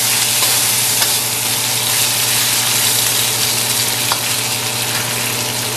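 Shrimp coated in cornstarch frying with ginger in a pan, a loud, dense, continuous sizzle close up with a couple of faint utensil clicks.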